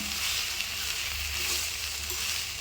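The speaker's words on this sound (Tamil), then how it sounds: "கீரை போட்டு நமக்கு 1 நிமிஷம் தாங்க ஆகுது, நல்லா வதங்கி வந்துருச்சு." Brahmi greens and garlic sauté in a pan with a steady, soft hiss. The sizzle stays even for a few seconds with no voices.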